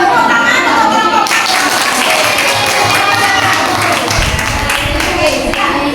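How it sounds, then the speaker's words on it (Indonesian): A classroom group claps for a student group in dense, continuous applause that fills the whole stretch at close range, with voices mixed in underneath. "tepuk tangan untuk kelompok"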